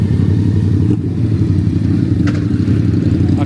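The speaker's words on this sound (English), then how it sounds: "Got more bikes rolling in." Motorcycles arrive at an outdoor evening car show in a busy lot, giving a loud, steady, low engine rumble nearby with a few clatters and thumps.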